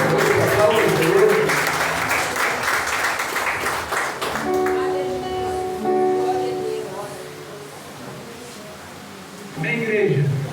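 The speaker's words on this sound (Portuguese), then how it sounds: "Aplauda o Senhor nessa noite." Church congregation applauding during an evening service, a few seconds of clapping with voices over it, giving way to sustained tones and speech, then clapping briefly rises again.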